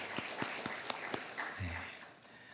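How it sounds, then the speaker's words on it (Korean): Scattered handclaps from a church youth congregation at a worship service, a few separate claps ringing out in a hall and quickly fading. "하나님께 영광 박수 올리겠습니다"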